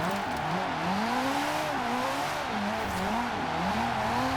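Tires squealing through a sustained slide in the Forza Horizon 4 racing game, a continuous wavering screech over a steady engine drone, loud and unbroken throughout with no voices.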